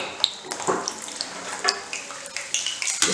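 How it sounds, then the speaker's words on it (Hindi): Whole Indian gooseberries (amla) fry in an open pan of hot oil, giving a steady close sizzle broken by sharp pops and faint scrapes of stirring. "इसमें हम डाल देंगे अपने आंवले। आंवले हमने अच्छे से धोकर सुखा लिए हैं, तेल हमारा खुला है, इसमें हमने आंवलों को फ्राई कर लेना है।"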